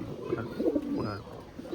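Quiet, low cooing from an old-bloodline female pigeon, a slim fancy breed, comes as a few soft, murmuring phrases close by with no talk over them.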